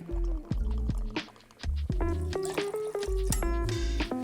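Two ounces of mezcal pour into a cocktail as a short run of liquid dribbles and drips up close, with music playing under it.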